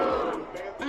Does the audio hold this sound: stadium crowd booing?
yes